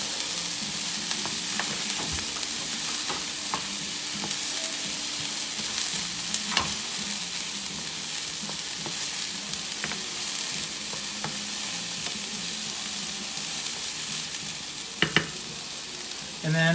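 Spices and garlic frying in a pan over fairly high heat for lentil tacos: a steady, close sizzle runs throughout, with light scraping and clicking from stirring and no voices.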